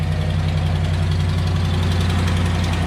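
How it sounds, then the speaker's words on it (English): A truck engine idles close up with a rapid, steady ticking from an exhaust leak riding over the even low rumble, the rhythm constant and unbroken throughout. "that is an exhaust leak."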